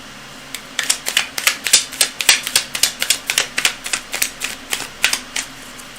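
Cards being shuffled for a reading: a series of crisp, close riffling and snapping bursts in quick irregular succession, about twenty sharp clicks over several seconds, with no voices.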